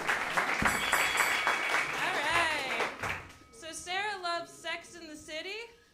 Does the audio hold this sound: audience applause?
yes